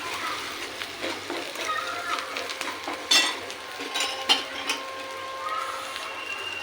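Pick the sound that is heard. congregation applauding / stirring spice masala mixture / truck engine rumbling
stirring spice masala mixture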